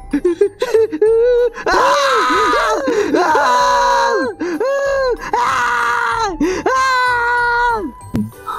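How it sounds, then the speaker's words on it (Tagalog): Two high voices scream and wail together, long anguished cries rising and falling with short breaks, loud and close. "Magkasabay na sigaw ng magkaibigan."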